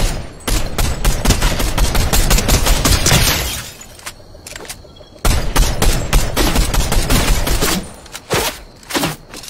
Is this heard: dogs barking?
no